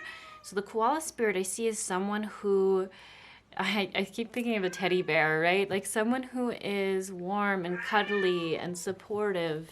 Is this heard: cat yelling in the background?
yes